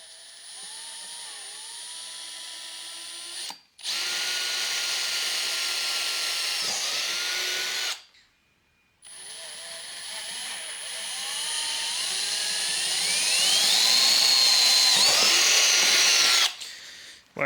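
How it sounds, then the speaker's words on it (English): A power drill whines in several bursts as it bores through metal, the pitch rising and shifting as the bit bites, with short pauses between runs. "I should be able to just drill these straight through."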